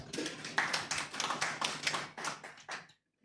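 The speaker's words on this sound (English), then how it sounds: "Give them a clap." Audience at a Uganda-Kenya coast tourism conference claps in a burst of about two and a half seconds, with sharp, fairly close and loud claps that end abruptly.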